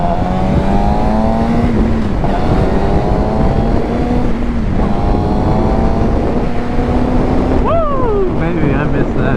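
A 2019 Suzuki GSX-R 600 motorcycle rides on a winter day, its engine whining up through the gears in repeated rising pulls with shifts between them, loud and close under heavy wind rush.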